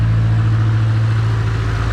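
A Nissan 180SX engine running on E85 fuel revs high, with a steady, loud, close engine drone and strong low harmonics held for the whole stretch, with no speech over it.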